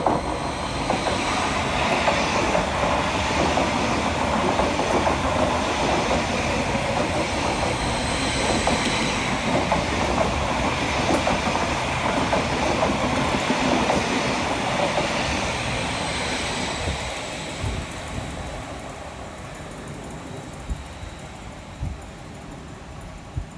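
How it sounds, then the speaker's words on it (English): A Greater Anglia Class 745 electric multiple unit, 745-102, rounds the curve through Bruce Grove on a diversion to Stansted Airport, its steady rumble and clickety-clack gradually fading as it passes. "Rounding the corner next for Greater Anglia is 745-102"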